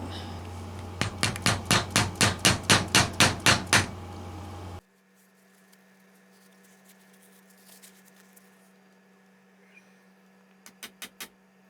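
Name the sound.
tapping a glued dowel in with a hammer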